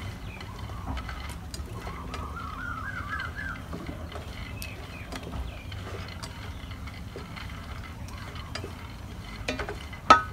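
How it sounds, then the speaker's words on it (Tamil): Pineapple pieces stirred into sago payasam in a pot give soft, scattered scraping ticks over a low steady hum, fairly quiet and close, ending with one sharper knock. "அன்னாசி அப்படியே வடிவாக கிளறி விடணும்"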